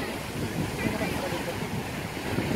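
Surf washes onto a beach in Destin, Florida, a continuous rushing roar of waves mixed with gusty wind buffeting the microphone, loud and close.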